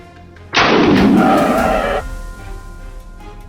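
A single loud gunshot fired at a wild boar during a hunt, a sharp blast followed by about a second and a half of booming rumble that fades into a lingering outdoor tail.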